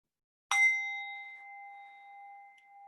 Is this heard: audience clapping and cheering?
no